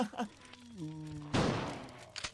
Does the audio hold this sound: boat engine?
no